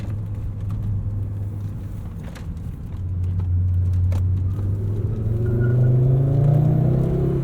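Engine of a Volvo 850 R drones steadily from inside the cabin while driving, a low rumbling hum that swells as the car accelerates near the end, with no talking.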